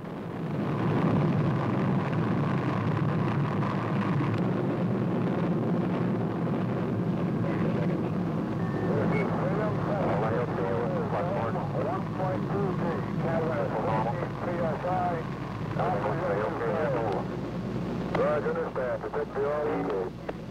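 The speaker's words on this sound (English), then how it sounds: "Liftoff at 9:34 a.m." The Mercury rocket carrying Alan Shepard lifts off with a loud, sustained rumbling roar that lasts throughout, while an announcer's voice comes through over it.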